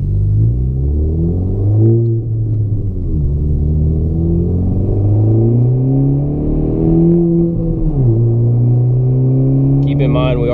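A 10th gen Honda Civic accelerating hard uphill on an interstate, engine droning and rising in pitch through the gears with a dip at each shift, loud and steady from inside the cabin.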